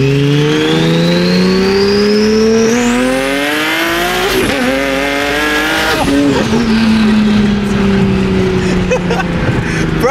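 A loud turbocharged Nissan 370Z engine revs and accelerates hard, pitch climbing through gear shifts with a whine, continuous and close, with a brief squeal near the middle.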